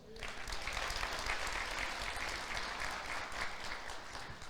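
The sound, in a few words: congregation applauding in church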